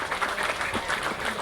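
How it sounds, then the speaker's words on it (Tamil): Audience applause at a Tamil film stage event, a continuous dense wash of clapping at a steady level through the clip, with voices faintly mixed in. "உங்கள் கரகோஷங்களோடு"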